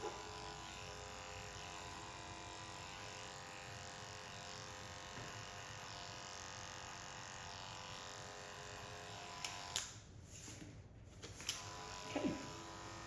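Electric clippers tidy the edges of a short pixie haircut, a faint, steady buzz humming alone, then a few brief knocks and rustles near the end.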